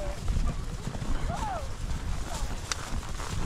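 A herd of about 84 horses driven back to a ranch corral: clip-clop of hooves with occasional whinnies and calls, moving under steady outdoor noise while a person talks over it.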